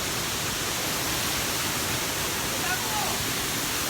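Imugan Falls in Sta. Fe, Nueva Vizcaya, pours with a constant broadband roar of falling water, loud and steady throughout.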